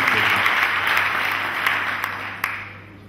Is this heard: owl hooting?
no